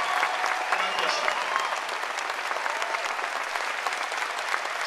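Sustained applause from an audience honoring veterans and first responders, dense and steady for the whole stretch, with some faint voices mixed into the clapping.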